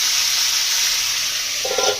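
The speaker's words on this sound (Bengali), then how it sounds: "এদিকে আলু আর কাঁকরোলগুলো ভাজা হচ্ছে" Potatoes and spiny gourd sizzle steadily in hot oil in a pan, a continuous bright frying hiss with a brief soft stir or clatter near the end, close and alone.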